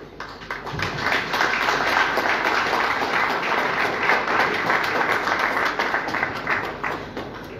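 Audience applause welcoming the evening's coordinator at a Kanyok cultural evening, a steady dense clapping that rises within the first second and holds loud and even throughout.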